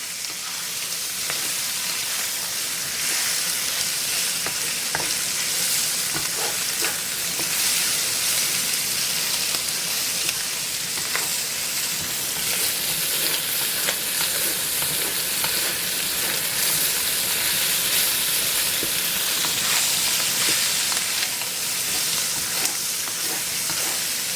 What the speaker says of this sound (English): And I want to give that a stir and just cook my shrimp a little bit.